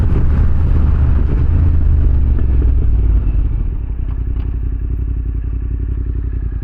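A motorcycle engine roars hard under full gas, loud and close, then its tone settles into a steady, throbbing, rhythmic chug as it carries on.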